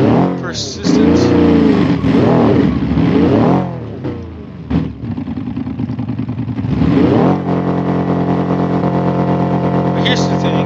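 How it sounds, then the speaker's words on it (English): A car engine in the BeamNG driving game revs loudly and close, pitch sweeping up and down repeatedly before settling into a steady high drone, with talk over it. "All we had to do was just rev the engine up for better persistence."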